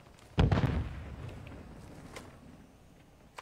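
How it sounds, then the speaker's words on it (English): Stun grenade going off in a battle royale video game: a sharp loud bang with a rumbling tail that fades over a few seconds, followed by faint scattered distant pops. "Stun grenade out!"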